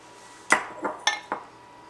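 Soaked filling for an Italian sweet pizza pie is moved into a bigger bowl in a quiet kitchen, giving four close, sharp clinks of dish and utensil.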